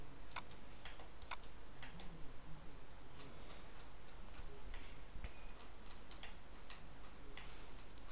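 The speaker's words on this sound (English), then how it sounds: "Left click, middle click, left click, middle click." Rapid computer mouse left and middle clicks tick in an irregular series over a steady background hiss, close and fairly quiet, with no talking.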